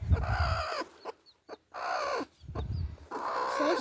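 A brooding hen that had been set on eggs, with newly hatched chicks, clucks in several close, clear bursts separated by short quiet gaps.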